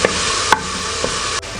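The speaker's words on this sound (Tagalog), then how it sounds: "hihintayin lang po natin na medyo mag-light brown po yung ating bawang" Garlic fries in a pan, a loud continuous sizzle close by, broken by a few sharp clicks of a utensil against the pan.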